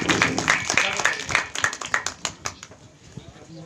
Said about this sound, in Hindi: एक बार जोरदार तालियों से स्वागत और सम्मान